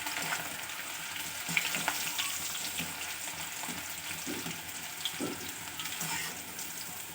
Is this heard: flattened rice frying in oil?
yes